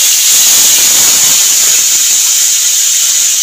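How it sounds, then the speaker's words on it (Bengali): Tomato paste hitting hot oil with bay leaf and asafoetida tempering for Bengali matar paneer, giving a loud, steady, continuous hiss throughout, with no talk. "আগে থেকে পেস্ট করা টমেটোটাও দিয়ে দেবো।"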